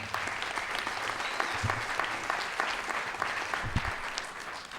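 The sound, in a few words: audience applauding Dr. Kelvin Adams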